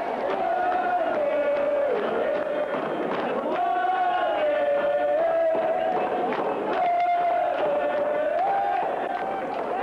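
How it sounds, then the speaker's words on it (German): A football crowd in Ranshofen roars and cheers in celebration after the local ATSV Ranshofen side knocks Rapid out of the ÖFB Cup on a penalty, a loud, sustained wall of voices with rising chants throughout. "in Ranshofen brachen die Jubelstürme aus"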